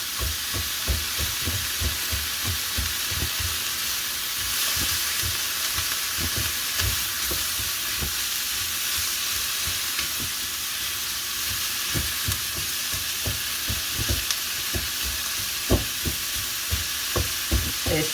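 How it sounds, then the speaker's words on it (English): Bacon sizzles steadily in a pan for the whole stretch, broken by repeated sharp taps and scrapes as a utensil stabs at stuck-together strips to separate them, close and fairly loud with no talking. "some of that bacon is stuck together, so you'll see me sort of stabbing at it as it's cooking, just to break it up"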